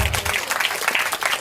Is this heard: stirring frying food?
no